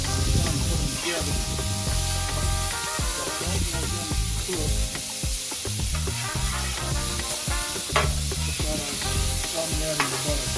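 Ribeye steaks sizzle loudly on a Blackstone griddle cooktop, a dense continuous frying hiss with spatters and occasional scraping, close up, partly under background music.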